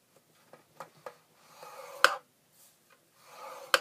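Paper is scored with a tool to make a pocket letter envelope, producing quiet, short scraping strokes and light taps spaced irregularly, close up and with no talking.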